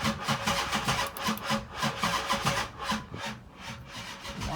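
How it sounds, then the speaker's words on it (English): A 2008 Dodge Charger R/T engine cranks without firing, giving a close, loud, rhythmic rasping churn that rises and falls in quick repeated strokes for several seconds, with a harsh grinding edge and no catch. "When I try to start it, it doesn't want to turn over."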